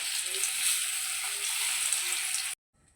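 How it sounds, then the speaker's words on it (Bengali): Lentil paste fritters frying in hot oil in a wok give a steady, close broadband sizzle for about two and a half seconds, then cut off abruptly into near silence with a faint return at the end. "একে একে আমি সব বড়াগুলো ভেজে নেব।"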